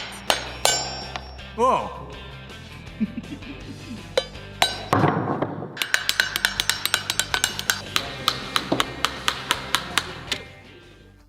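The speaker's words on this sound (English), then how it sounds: "The next step is to remove the shell from the nut." Coconut shells being cracked and pried off by hand, giving a long run of sharp, close knocks and clinks in a quick irregular rhythm, with a brief startled voice early on.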